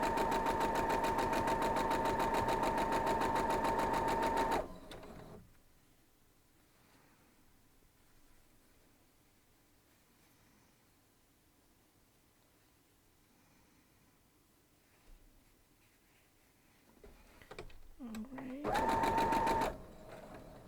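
Sewing machine stitching quilt block pieces, a loud steady whirring hum for several seconds close up, then a long quiet pause with faint handling and voice, and a brief second burst of stitching near the end.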